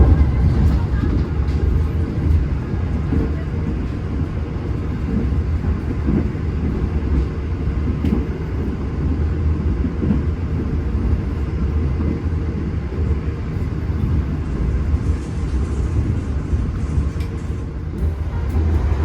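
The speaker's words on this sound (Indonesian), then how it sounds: "mari kita nikmati perjalanan selama 10 jam setengah dengan kereta stainless yang terbaru ini" Steady low rumble and rolling rail noise inside a moving Argo Semeru executive train with new stainless steel carriages, a constant loud drone throughout with faint clacks.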